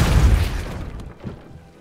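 Depulso spell cast in Hogwarts Legacy, a single deep booming burst that hits loudly at the start and then fades out over about a second and a half.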